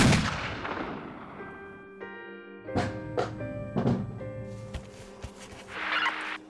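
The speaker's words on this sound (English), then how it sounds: "Shots fired at 421 Cano." Several sharp gunshots crack out in an irregular sequence, each a loud percussive burst with a short ringing tail, over a quiet background with a faint sustained tone. No one talks.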